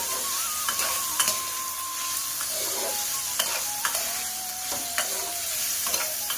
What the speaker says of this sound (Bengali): তাই একই সাথেই ভেজে নিচ্ছি।